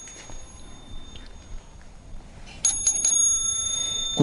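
Marble mantel clock chime being struck during adjustment: a quiet stretch with faint ticks, then several bright ringing metallic strikes in quick succession, close and clear.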